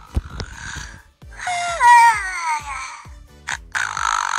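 A Furby Furblets mini electronic plush toy's snoring sound, a rising whistly inhale followed by a gentle breathy exhale, repeated with soft clicks between.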